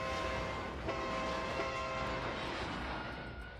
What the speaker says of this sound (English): I don't like how far away that train sounds.